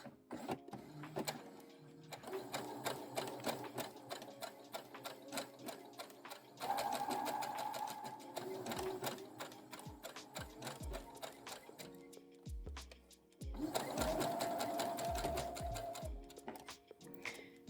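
A sewing machine runs a V stitch along a double fold, its presser-foot bar riding the folded edge while the needle just catches the main fabric, with two bursts of steady mechanical whirring and ticking separated by brief pauses.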